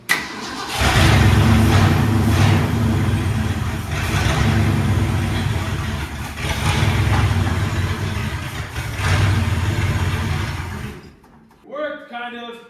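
An old Mercury Montclair, sitting unused for 20 years, cranks and fires up: loud close engine roar that surges and rumbles unevenly for several seconds, then cuts out abruptly, followed by people talking.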